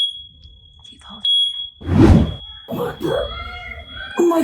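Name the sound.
fire alarm going off during a home fire drill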